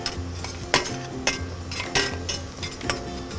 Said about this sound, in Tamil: ஒரு 2 மினிட்ஸ் வதக்கினா போதும்.